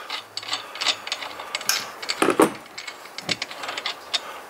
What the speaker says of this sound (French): Tout simplement je dévisse.